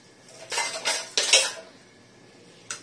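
A spoon scraping and stirring curd in a bowl in a home kitchen: three loud, close scraping bursts, then a pause and a brief final clink, with no voices.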